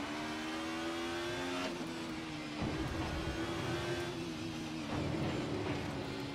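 An older touring car in Assetto Corsa on the Nordschleife, its engine revving hard through repeated upshifts. Each climbing drone breaks at a gear change, loud and steady in the cabin view with no talking.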